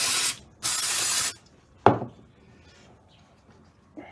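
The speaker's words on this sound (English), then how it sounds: "Just give it a bit of a spray." Cleaner is sprayed onto the floats of a Dellorto DRLA 36 turbo carburettor during a service, in two loud hissing bursts of about a second each, followed by a sharp knock and quiet handling noises.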